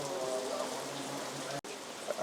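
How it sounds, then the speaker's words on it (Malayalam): Steady, dense rain pours down continuously at night in Kodaikanal, a broad wash of hiss with a brief cut near the end. "കൊടൈക്കനാലിൽ വന്നിട്ട് നല്ല കിടിലം മഴയാണ് കേട്ടോ"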